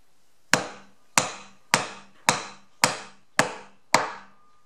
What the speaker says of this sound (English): just with a normal chisel, each stroke goes down just a little bit farther